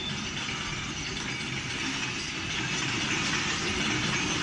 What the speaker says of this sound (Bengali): কিভাবে ইঞ্জিন ছাড়াই রেল লাইনে ছুটছে মালগাড়ির বগি।